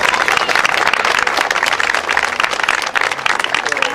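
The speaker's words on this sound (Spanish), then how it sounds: "aplauso para Cecilia" Audience applause for Cecilia, a speaker taking the microphone at a talk, a steady dense wash of clapping from a crowd filling the whole stretch without a break.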